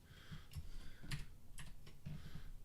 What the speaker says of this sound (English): If my keyboard work.